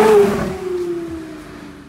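A Porsche Carrera GT's titanium-internals engine revs up sharply, then its loud, high-pitched wail gradually falls away as the revs drop, heard close and alone.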